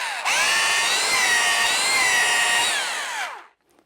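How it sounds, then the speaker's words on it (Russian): A rotary hammer drill runs in plain drilling mode, spinning up with a rising whine, holding a steady high-pitched motor tone for about three seconds, then winding down to silence. "Ну и, конечно же, режим просто сверления."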